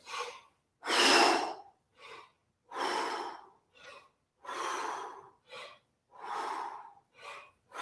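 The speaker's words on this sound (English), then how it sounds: "Here's another 10 breath squats. Exhale it out." Forceful breath exhales during a breath-squat vocal warm-up exercise: a series of about a dozen sharp, breathy puffs alternating long and short, close and clear, with silent gaps between each.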